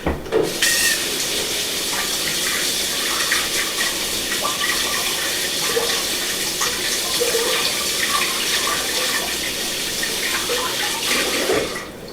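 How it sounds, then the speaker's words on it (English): Hands are washed under a running kitchen tap while making pizza, and the water streams loudly and steadily for about twelve seconds with no talking over it. "let me wash my hands real fast"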